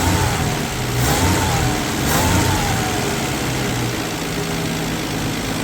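A 1965 Plymouth Valiant 100 with a slant six engine and sticky throttle runs loud and close, rising in two gentle revs before settling back to a steady idle.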